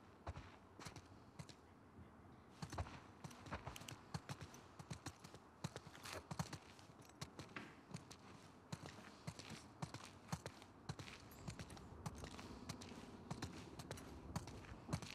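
Horses walking in The Last of Us Part II, their hooves clip-clopping in a steady, uneven rhythm over fifteen seconds, close and moderately loud, with no voices.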